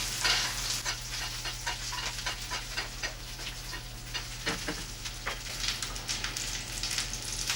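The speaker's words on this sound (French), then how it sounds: "Et on l'arrose pour éviter que la viande ne s'assèche." Guinea fowl sizzles steadily in a hot pan while being basted, with continuous frying crackle under repeated soft scraping and spooning sounds, close and moderately loud throughout.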